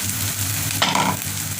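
Spice masala fries in hot oil with onion, ginger and garlic, giving a steady close sizzle with a short burst of scraping as the mixture is stirred, with no voices.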